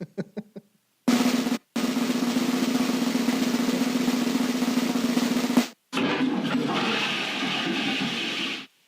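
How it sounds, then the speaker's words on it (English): A violent toilet flush roars loudly and continuously for several seconds, cuts briefly, then surges again with a gurgling rush, preceded by a few faint clicks. "No, that was a toilet flush. It's a very violent toilet flush."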